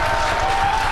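Spectators at a SpaceX Falcon Heavy USSF-44 launch send up a loud, continuous roar of cheering and clapping, close and dense, with no breaks across the moment.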